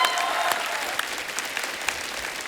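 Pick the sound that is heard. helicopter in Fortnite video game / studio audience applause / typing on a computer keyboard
studio audience applause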